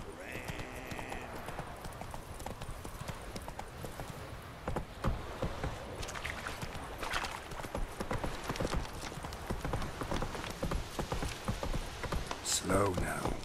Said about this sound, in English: I best get off the horse.